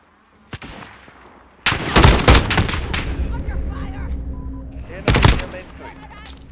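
Gunfire in Call of Duty Modern Warfare: a lone shot, then loud rapid bursts of automatic fire and booming impacts, settling into rumbling battle noise before another sharp volley, with voices calling out beneath.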